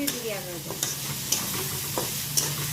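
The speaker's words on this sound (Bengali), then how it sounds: "তো হালকা সিদ্ধ হওয়ার পর আমি আবার আস্তে আস্তে একটু ভেজে নিচ্ছি।" Pieces of partly boiled bottle gourd fry in a pan under a steady close sizzle, with soft periodic scrapes and taps of a spoon stirring them.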